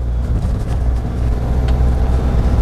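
A car engine holds a steady, loud drone at low revs in a low gear, about 2000 rpm, while driving slowly behind traffic, with continuous road and cabin rumble and no talking.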